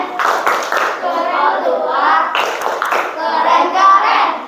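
A classroom of children performs a rhythmic clapping chant, bursts of quick hand claps alternating with voices chanting together in unison, loud and close.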